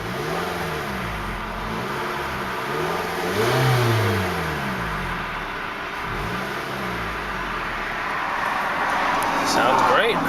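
A 2009 Scion xB engine idling after start-up, a steady mid-pitched hum with a brief rise in revs midway, heard close and continuous under faint background noise.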